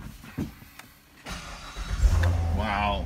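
A 2015 Chevrolet Corvette Stingray engine cranks and catches, rising into a loud, deep idle through its exhaust after a few clicks and rustles nearby.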